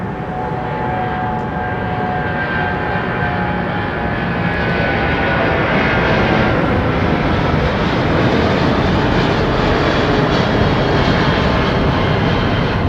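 Jet airliner departing Heathrow Airport bound for Doha, a loud sustained engine roar building steadily through the takeoff with broadband rumble and whining tones, no voices over it.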